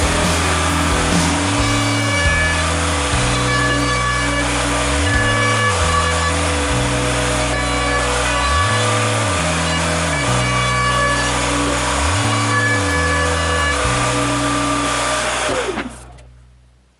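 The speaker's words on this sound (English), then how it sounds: "I prepared my router table with a 45-degree bevel cutter and give this plate around the 3 open sides a nice 45-degree bevel" A router table fitted with a 45-degree bevel cutter runs a steady loud whine as it bevels the edges of a wooden plate for a bathroom washing stand, with the cutting load rising and dropping in repeated passes before spinning down at the end.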